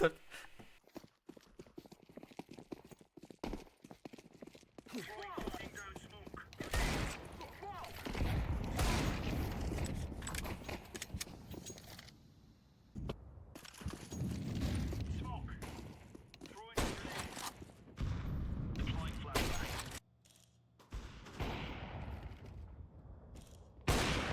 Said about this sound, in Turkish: Çok fena ateş alıyoruz komutanım.